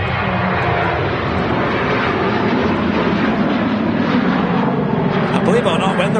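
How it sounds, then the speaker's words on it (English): An airliner with Pratt & Whitney engines on its takeoff roll at Manchester Airport makes a steady, broad, loud roar that holds throughout. Voices talk over the engine noise. "And they're on the takeoff roll."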